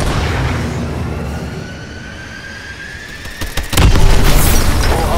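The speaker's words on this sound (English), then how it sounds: "Missile strikes incoming." Missile strike explosions in the Exo Zombies video game: a rumbling blast bed fades, then a loud burst of impacts near the end, with sustained heavy booms trailing out.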